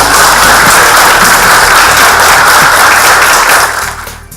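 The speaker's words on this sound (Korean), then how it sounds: "회장님 모실 때 여러분 뜨거운 박수로 회장 모시겠습니다." Loud, dense applause from a seminar audience welcoming a chairman to the stage, a steady wash of many hands clapping that fades out at the end.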